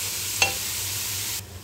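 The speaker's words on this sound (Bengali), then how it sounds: "এই যে পেঁয়াজটা লাল করে ভেজে নিছি আমি" Onions frying in a pan, a steady hiss with one brief scrape near the start before the sound drops away, close and quiet with no talking.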